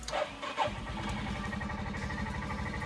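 A Skywave CJ43A motorcycle engine, fitted with a new battery, cranks briefly and catches on the first try, settling into a steady, throbbing idle close by.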